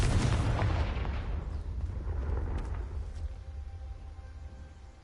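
A fiery Confringo spell blast in the Hogwarts Legacy video game sets off a loud, deep explosion that booms at once, then rumbles and crackles as it slowly fades, with no voices over it.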